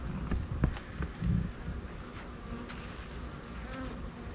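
Honeybees from a Flow Hive 2 being opened for mite treatment at night, buzzing steadily and close by, with a dense insect drone and a few louder swells near the start, no talking.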